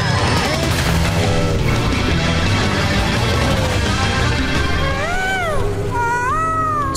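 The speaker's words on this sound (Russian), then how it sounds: "Эти звуки издает китенок." Whale calf calls in an underwater cartoon scene: rising and falling squeaky, whistle-like cries near the end, over a busy, steady music and effects bed.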